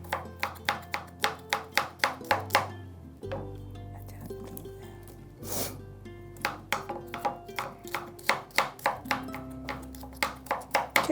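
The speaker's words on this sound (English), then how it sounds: "Okay, so we're going to chop it really fine" A knife chops garlic finely on a cutting board in quick, even rhythmic taps, with a short pause midway before the steady chopping resumes, close and crisp.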